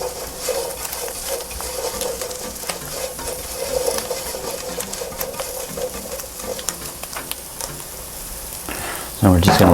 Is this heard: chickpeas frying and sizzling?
yes